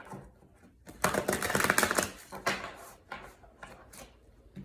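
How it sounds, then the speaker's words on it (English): Crisp, rapid riffling of a tarot deck in a few bursts, a loud flurry of flicking and snapping followed by shorter shuffles and soft taps, close up. "Okay, we will do one last shuffle."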